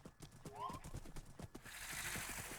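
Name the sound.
horse in a video game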